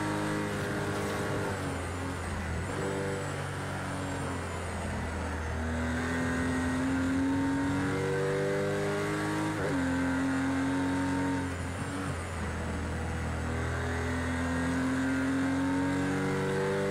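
A damaged race car engine in the Project CARS 2 racing game drones steadily and loudly, its pitch rising and falling through repeated gear changes with other cars' engines mixed in and no talk.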